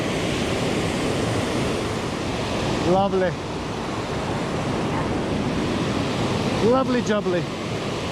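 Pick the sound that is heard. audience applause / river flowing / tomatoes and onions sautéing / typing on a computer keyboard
river flowing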